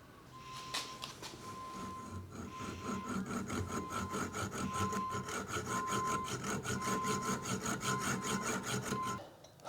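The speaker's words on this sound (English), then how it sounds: "All right, I'll go ahead and cut this hex bolt now." A metal hex bolt being cut with a hand saw gives a fast, even rasp of back-and-forth strokes, close and loud, steadily building and then stopping abruptly.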